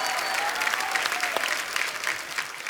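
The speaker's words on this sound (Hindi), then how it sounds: "इन तीनों फनकारों के लिए जोरदार तालियां" A studio audience at The Kapil Sharma Show claps loudly for three performers, a thick, continuous wash of applause with faint crowd murmur and a thin sustained musical tone fading out beneath it.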